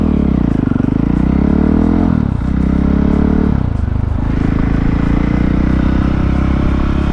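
A KTM 450 EXC dirt bike engine revs hard and climbs in pitch through repeated gear changes, the loud, close single-cylinder rasp briefly dropping between shifts before surging again.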